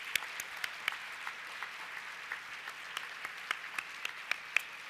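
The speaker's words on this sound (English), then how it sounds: "Can we have another big round of applause for all of our honorees today?" Audience applause for honorees at the Pinnacle Awards 2020 ceremony. Fairly soft, even clapping from a crowd carries steadily throughout, with a few sharper individual claps standing out near the listener.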